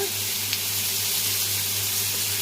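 Ground masala paste for malai paneer fries in a pan, producing a steady moderate sizzle under a constant low mechanical hum, with a faint click near the start and no talking.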